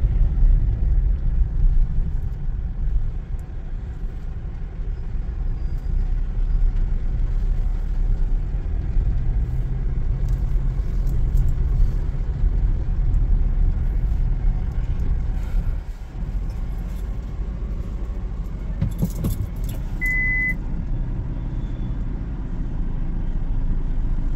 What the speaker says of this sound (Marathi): आता गाडी पार्किंग करतोय